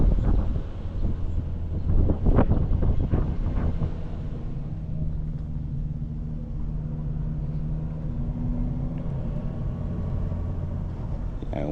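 A car with a GDI engine creeps along at about 11 mph below 3,000 RPM, its low steady engine rumble buffeted by wind noise, with a few louder bumps early on.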